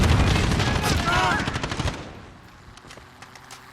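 Rapid bursts of automatic gunfire from the video game Call of Duty Modern Warfare, loud and dense for the first two seconds, then thinning to scattered shots under faint game sounds.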